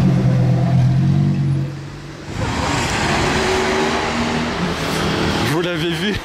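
Mercedes-AMG GT Black Series, called the MG1, passing by on a Monaco street, a loud engine roar rising then sweeping past and fading, with people talking nearby.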